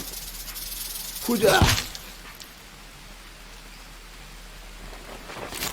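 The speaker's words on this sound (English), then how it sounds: "Goddamn rattlesnake." A rattlesnake in the video game Green Hell hisses in a sharp burst that rises suddenly and fades after about a second, with a faint second hiss at the end over soft ambient noise.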